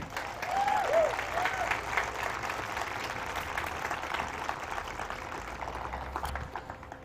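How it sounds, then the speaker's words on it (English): Audience applauding students at an eighth-grade promotion ceremony, steady moderate clapping across the whole stretch with a brief voice near the start. "So round of applause to our students too."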